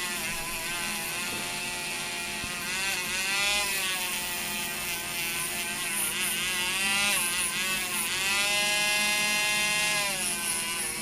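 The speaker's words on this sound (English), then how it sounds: "I've got my Dremel with my brass wire wheel. I'm going to go over the entire casting" A Dremel rotary tool spinning a brass wire wheel over a diecast casting, a continuous high whine that rises and falls in pitch as pressure on the metal changes, steady and close throughout.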